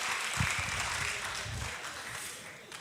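Audience at a live auction dinner event, with a crab and pasta dinner, clapping in a brief burst of applause that fades over a few seconds, moderately distant and crowd-like.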